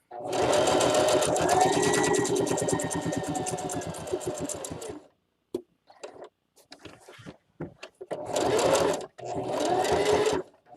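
A sewing machine stitches a fabric Easter basket, running in a long steady burst of rapid stitching, then stopping for scattered handling clicks before two more short runs.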